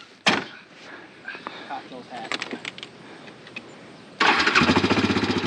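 A small engine whose air box had taken on moisture turns over near the end, then catches and roars steadily and loudly after a quieter stretch of voices and handling noises.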